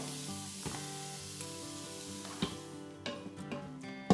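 Diced onion sautéing in melted butter inside an Instant Pot gives a steady, fairly quiet sizzle, with a few sharper clicks and taps near the end.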